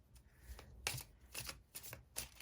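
A deck of tarot cards is shuffled by hand in quick bursts, several close riffling flutters in a quiet room.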